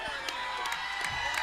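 Crowd cheering and whooping at a charity pickleball exhibition match, a brief burst of mixed shouts and clapping from the stands heard from a distance.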